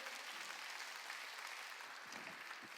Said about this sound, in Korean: 박수치라.